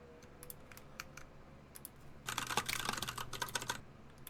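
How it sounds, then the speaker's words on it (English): A clacky mechanical keyboard being typed on close up: scattered single keystrokes at first, then a fast dense run of clicks, with no talking. "There's actually a playlist for typing sounds"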